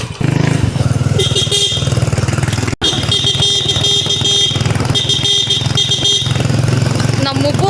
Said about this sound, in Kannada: ನಮ್ಮ ಮುಬ್ಬು ಹಾರ್ನ್ ಇದು ಎಲ್ಲಿದ್ರೂ ಕಂಡುಹಿಡಿಬೇಕು, ನಮ್ಮ ಮುಬ್ಬುನೇ ಬರ್ತಾ ಇದ್ದಾನೆ ಅಂತೇಳಿ